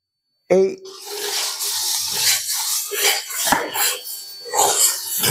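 Sago scraped and stirred in a kadai over a low flame, a soft, repeated scratching and rubbing of the spoon against the pan after a sudden start, with occasional light knocks.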